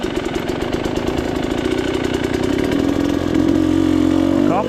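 A motorcycle engine chugs nearby at a hill climb training session with a rapid pulsing beat, then revs up into a louder, steadier drone.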